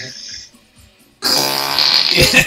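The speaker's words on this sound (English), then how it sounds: "Where's the fart?" A loud fart sound effect played from a soundboard, a sudden raspy blast that kicks in midway and runs to the end, following a few quieter murmurs.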